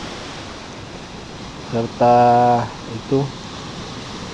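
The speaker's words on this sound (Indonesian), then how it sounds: "kalian lihat deburan ombak," Ocean surf rolls in on Pantai Ulakan beach as a steady broad wash of breaking waves, with someone talking over it in short bursts.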